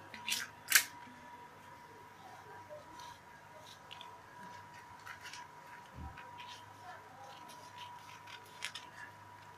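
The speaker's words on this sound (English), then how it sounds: "So I'm cutting both the back and the front together." Scissors snip through fabric layers being cut for a three-quarter suit gown, giving a few sharp, brief cuts near the start and faint scattered snips later over a quiet room.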